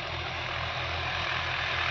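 A Massey Ferguson tractor engine, either the 8055 or 245 model, runs steadily and close by after ploughing a field, producing a dense, continuous low rumble with no speech.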